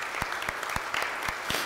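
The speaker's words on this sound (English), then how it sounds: "Can we give them another round of applause?" Brief applause for musicians from a church congregation at a United Church of Christ service, with close, distinct claps standing out from the general clapping over a short burst.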